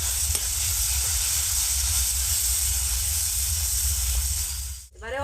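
Masala with tomato paste frying in a pan for a heron curry, a steady loud sizzle and hiss throughout, broken near the end by a brief scrape and clatter.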